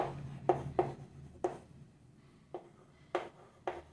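Marker or chalk strokes on a board during a Class 9 maths lesson: seven short, sharp scratching taps in an irregular rhythm, close and clear over a quiet room.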